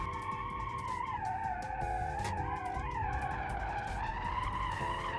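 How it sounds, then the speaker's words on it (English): Electric Covet car in the BeamNG driving game skids steadily with a continuous tire squeal over a constant whining drive tone, loud and unbroken for the whole stretch, with no talk. "So now I'm just gonna do a bit of skids for the kids."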